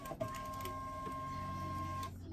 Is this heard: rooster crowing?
no